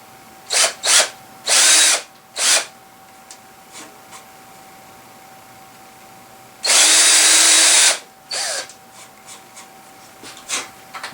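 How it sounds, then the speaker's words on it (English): A power drill marks the center of a guitar body before a 1/2-inch Forstner bit is used, whirring in several short bursts and then one longer run of about a second, close and loud, with quiet pauses between. "I'm going to use my drill to put a mark in the center here so that this bit doesn't wander."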